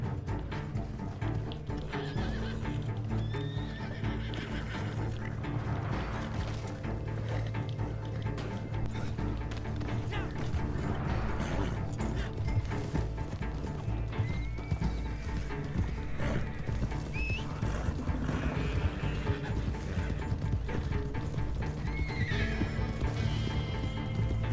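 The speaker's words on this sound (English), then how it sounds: "Let's get these horses" Horses in the video game Red Dead Online neigh and whinny repeatedly while their hooves clop in a steady rhythm, loud and close throughout, with no voices.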